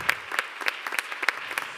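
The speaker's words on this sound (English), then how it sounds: "But let's clap it up for them." Scattered applause from a small audience at a music awards ceremony, a few dozen distinct claps in an uneven patter, fairly faint and with no talking over it.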